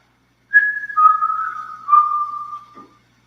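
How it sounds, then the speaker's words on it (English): A person whistles a short tune of three clear sustained notes, stepping down in pitch, close and alone in a quiet room. "I'm gonna whistle a tune and I want you to finish it if you can."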